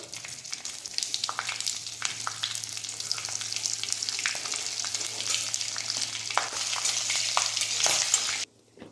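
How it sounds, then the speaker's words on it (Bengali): Bay leaves, green chillies, cumin and panch phoron crackle and sizzle in hot oil for a vegetarian vegetable curry, a dense close-up frying hiss with scattered popping spatters that cuts off abruptly at the end. "তেল গরম হয়ে গেছে, আমি এবার তেজপাতাগুলো দিয়ে দিচ্ছি, কাঁচা লঙ্কাগুলো দিয়ে দিলাম, জিরে আর 5 ফোড়ন।"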